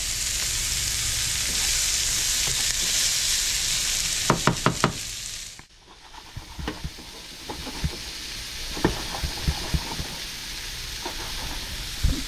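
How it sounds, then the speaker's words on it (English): Sand mullet fries in a hot pan with a loud continuous sizzle, then the pan is shaken, adding scattered knocks and clatters over a quieter hiss. "The hottest part of this pan is where I just put the fish."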